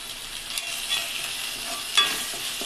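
Ginger garlic paste being stirred into chicken curry in a pan, a soft steady scraping and sizzle with a couple of sharper clinks of the spoon, no talking.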